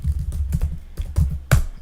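Keys clatter on a computer keyboard at a workstation, a handful of quick irregular clicks with a few sharper strikes, fairly close and alone without speech.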